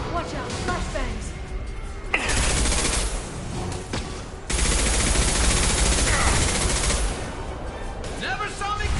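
Heavy video game gunfire in a firefight, dense bursts of rapid shots forming a sustained roar that stops briefly and then resumes loudly, with shouted voices heard under and between the volleys.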